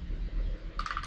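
Short bursts of clicking on a computer keyboard as a command is typed at a PC, several quick keystrokes clustered near the end over a steady low background hum.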